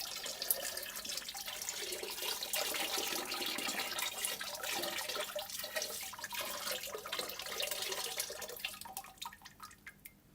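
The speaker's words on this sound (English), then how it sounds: "This is my glaze. I'm just gonna keep pouring it." Pottery glaze is poured in a continuous watery trickle with dripping, close and moderately quiet, tapering off near the end; no talking.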